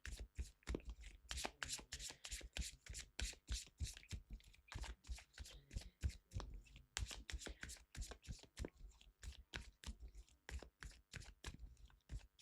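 A tarot card deck being shuffled by hand, with rapid, dense riffling and slapping of cards in continuous bursts, close and fairly quiet, with no talking.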